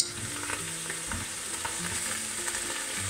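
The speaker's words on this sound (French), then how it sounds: "j'attends que mon huile chauffe, c'est bon, et je jette mes épinards" Spinach hits hot oil and fries with a loud, continuous crackling sizzle up close, while a utensil stirs through it with occasional soft scrapes and no voices.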